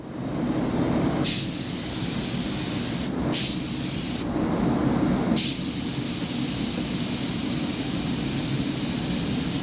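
A car spray paint gun hisses at about 26–29 psi in three bursts, the last one long and continuous, with brief gaps between them.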